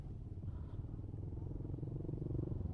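A stock, unmodified motorcycle idles with a steady low rumble and purr, fairly quiet and alone with no talk.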